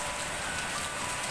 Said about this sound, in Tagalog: Kaya lakas man ang ulan.